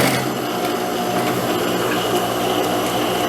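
A sewing machine runs continuously, stitching a short straight seam across knit fabric to hold elastic for a cropped top, a loud, even mechanical whir without pauses.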